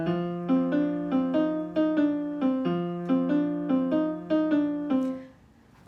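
A piano plays a beginner C blues scale phrase as a steady run of separate single notes with a clear, even rhythm, and the final note dies away into near silence.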